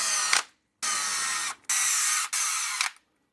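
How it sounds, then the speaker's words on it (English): Power driver running screws back into a Traxxas X-Maxx RC truck: four loud whirring bursts of about half a second each, separated by short pauses, with no talk. "Go ahead and put our screws back in."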